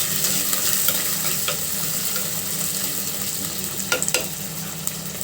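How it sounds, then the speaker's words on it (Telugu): Green chillies and curry leaves frying in hot oil, with a steady close sizzle and occasional stirring clicks, a brief cluster of scrapes near the end. "అలా పచ్చిమిర్చి, కరివేపాకు వేసేస్తున్నాను. వేసేసి ఫ్రై చేస్తున్నాను."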